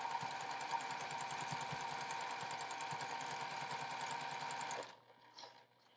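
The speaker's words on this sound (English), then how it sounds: "I'm going to sew a 1/4 inch seam across here" A sewing machine stitches a quarter-inch seam on a jelly roll quilt block, running as a steady, close mechanical whir with a fast needle rhythm for nearly five seconds before stopping abruptly, leaving faint room noise.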